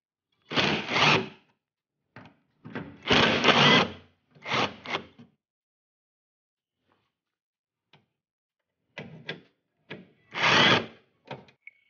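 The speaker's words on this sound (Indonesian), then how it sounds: "kita melepas baut 10 ini ya" A ratchet or wrench backs out 10 mm bolts from a car radiator fan in bursts of ratcheting clicks and metallic rattles, separated by silent pauses, close and clear.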